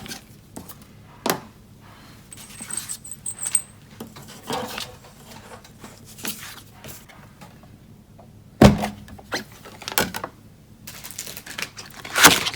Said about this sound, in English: let's bring the big shot in because we need to die cut this piece first